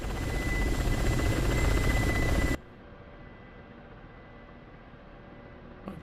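Helicopter in the flight simulator DCS World, a loud, steady rotor and engine drone that suddenly drops to a quieter, muffled hum partway through.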